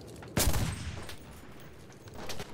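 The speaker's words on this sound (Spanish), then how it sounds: "¿Quién me está disparando?" A loud volley of gunfire from the shooter Enlisted opens with a sharp blast, followed by scattered, fainter shots and one more burst near the end, with no talking.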